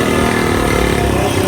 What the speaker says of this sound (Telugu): క్రేజీ ఉంది బైక్ అయితే